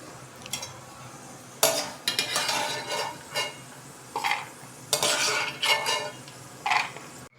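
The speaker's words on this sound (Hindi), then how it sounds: "मूंगफली देखिए अच्छे से फ्राई हो गई है और अब हम इसे एक प्लेट में निकाल देंगे।" Fried peanuts being scraped out of a cooking pan onto a plate while making Indian poha, heard as a series of close metallic scrapes and clinks in irregular bursts with short pauses between them.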